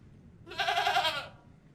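A single goat bleat, a loud wavering cry lasting under a second, close and alone against quiet background.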